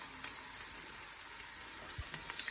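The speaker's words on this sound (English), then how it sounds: "frying the pepper, celery, garlic, chilli" Chopped pepper, celery, garlic and chilli frying for jambalaya, a steady soft sizzle in a pan with a few faint stirring clicks, no voices.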